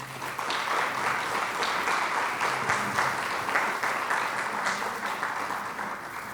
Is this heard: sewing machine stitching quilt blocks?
no